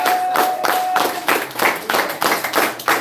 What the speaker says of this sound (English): I wanted to give them another round of applause.